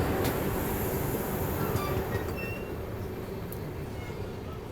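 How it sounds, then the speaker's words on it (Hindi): The Bihar Sampark Kranti Express, an 18-coach train, pulls into Unnao Junction railway station with a steady, loud rumble of wheels and carriages, faint metallic squeals and clanks, gradually easing, with no voices. "कानपुर से अपनी ट्रेन आ चुकी है उन्नाव जंक्शन रेलवे स्टेशन पर"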